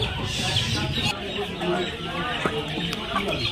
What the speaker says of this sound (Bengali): দেখতেই পাচ্ছেন প্রচুর ভ্যারাইটিস ভাইয়ের কাছে মুরগি আছে